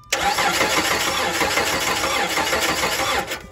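Dodge Charger engine turning over without catching: a sharp onset, then continuous rhythmic starter cranking for about three seconds before it stops, loud and close.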